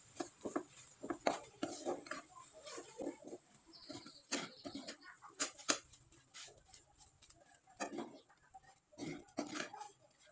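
Semolina dough is stirred and pressed in a hot pan, giving irregular close clanks and scrapes of a utensil against metal, separated by quiet gaps.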